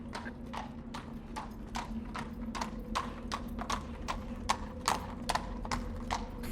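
Horse hooves clip-clopping in a steady walking rhythm, about two hits per second, fairly close and moderately loud over a low background hum, used as an effect for the black horseman legend.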